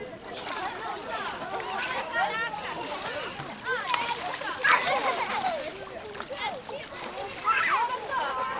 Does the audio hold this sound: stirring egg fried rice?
no